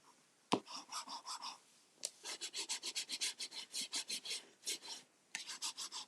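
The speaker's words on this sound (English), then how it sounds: "Burnish all those areas down well so that you've got a nice fold" A paper notecard folder's fold is burnished by hand, giving a rapid series of dry, close rasping rubs in steady strokes after a single sharp tap, with no voices.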